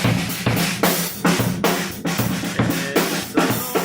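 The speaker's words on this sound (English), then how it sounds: "watch this clip of us recording drums in my backyard home studio" A drum kit played in a steady rhythm, sharp snare and cymbal hits repeating roughly every half second, muffled as heard from several feet outside a soundproofed backyard studio.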